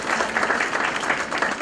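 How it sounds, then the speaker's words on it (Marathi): A roomful of people gives hearty applause at a gathering, a brief, dense burst of steady clapping. "जोरदार टाळ्या होता साटमकरांचा"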